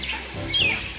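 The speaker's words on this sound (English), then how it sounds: "It's a robin." A robin's tweeting song, a brief high chirp and then a thin downward-sliding whistle, faint over a low background hum, with no talk.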